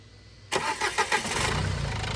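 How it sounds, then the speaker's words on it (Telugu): A 2014 Renault Duster 4x4 diesel engine cranks briefly and catches on the first try, then settles into a steady, rumbling idle close by. "ఇప్పుడు మీకు ఒకసారి ఇంజన్ స్టార్ట్ చేసి చూపిస్తాను"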